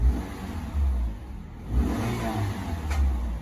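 A stock-exhaust car engine, unmodified with its factory muffler, revs in low rumbling surges, rising twice and settling between, close and fairly loud with no talking.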